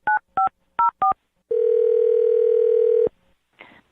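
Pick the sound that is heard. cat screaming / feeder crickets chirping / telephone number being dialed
telephone number being dialed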